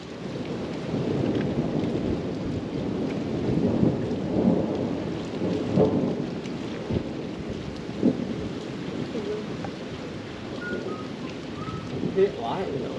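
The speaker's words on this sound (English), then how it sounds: "Thunderstorm that was threatened for 3 days is now here." Thunderstorm rolling in over the Norfolk Broads, with steady rain and low rumbling thunder that swells around a few seconds in, sustained and fairly close, with some occasional quiet talk.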